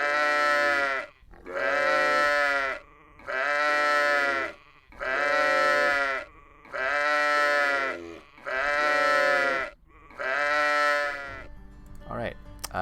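A sheep gives seven long, loud bleats in an even sequence, each followed by a short pause, during a Catan championship broadcast. A brief burst of other noise comes at the end.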